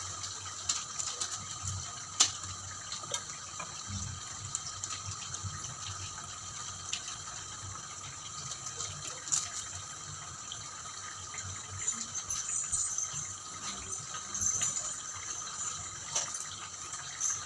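Steady crackling sizzle of rice crackers deep-frying in hot oil, close and continuous, with scattered sharp pops and no talking.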